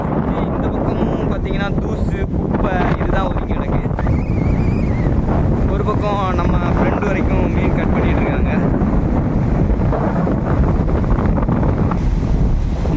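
Rough sea waves crash and wash onto a beach amid strong wind buffeting the microphone, a continuous loud roar with surging swells, while someone talks over it.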